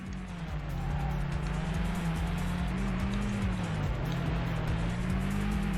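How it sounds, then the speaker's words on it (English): Racing car engines in the PS1 game Vanishing Point drone steadily and loudly, a continuous sustained hum with slowly shifting pitch and no breaks, alone. "I find the sound of the cars a bit stale"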